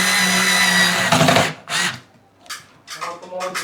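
A power drill whirs loudly and close for about a second and a half, driving a screw into a ceiling fan mount, then stops as a person starts talking.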